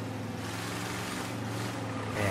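A powerful car engine in the video game Mafia 3 produces a steady, deep, even rumble that drones on without pause, heard alone with no talking.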